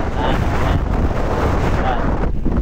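Strong wind buffets the microphone in a steady, loud rumble, with a faint voice underneath.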